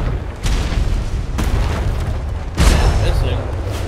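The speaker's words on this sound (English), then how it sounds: "They're on those large cannons on this one coming at it." Large galleon cannons fire during a ship raid in the game Atlas: three deep booms about a second apart, each rumbling over a steady background roar.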